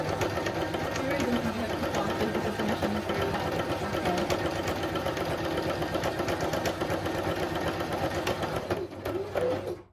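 A sewing machine stitches forward and back across cotton bed sheet fabric, a steady, close, rapid mechanical whir that runs almost without a break for the whole stretch before stopping abruptly near the end.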